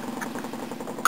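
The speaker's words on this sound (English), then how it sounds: "That's fuel pump. That's priming pump." Fuel priming pump running in a diesel ute, a fast, steady mechanical buzzing pulse, close and moderately loud, ending in a sudden brief click.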